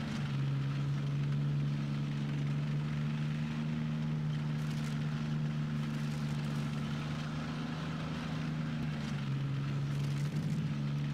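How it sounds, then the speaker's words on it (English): A tank engine in the video game World of Tanks gives off a steady, low droning hum that holds throughout, with a faint rumbling texture and no speech. "So you can hear the different sounds for the engine as well as the gun."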